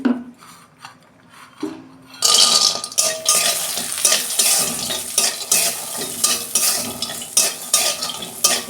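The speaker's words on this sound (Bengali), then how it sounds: "বড়িটা প্রথমে ভেজে নেবো আমি অল্প তেল দিয়ে।" Bori lentil dumplings fry in a little oil, with quiet pan sounds at first, then a loud sizzle joined by stirring and repeated scrapes and clinks of a utensil against the pan.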